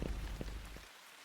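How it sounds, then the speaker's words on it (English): Steady rain falling as a soft, continuous hiss in the background, fading somewhat toward the end with no voices over it. "there is rain playing in the background"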